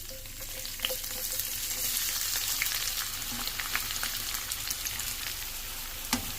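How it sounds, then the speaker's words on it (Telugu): Sliced onions frying with cloves, cinnamon and a bay leaf for chicken masala, a steady close crackling sizzle with small pops and occasional spatula scrapes. "బ్రౌన్ కలర్ వచ్చేదాకా వేయించుకుందాం"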